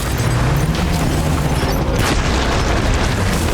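A hematic grenade explodes in the Death Stranding game, a single heavy boom two seconds in over a constant loud rumbling background.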